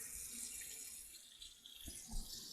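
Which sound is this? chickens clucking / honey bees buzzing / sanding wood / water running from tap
water running from tap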